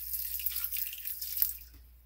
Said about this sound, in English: I don't really measure, I just pour,